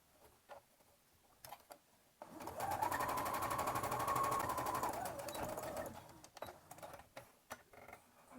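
A sewing machine runs in one steady burst of a few seconds, stitching the fabric overalls of an Easter bunny, with quiet handling clicks before and after.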